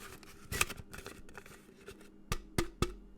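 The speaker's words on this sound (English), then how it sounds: "This is the sound of the money going in the jar." A few sharp metallic clinks of coins dropping into a jar, scattered and close, with soft rustling between them.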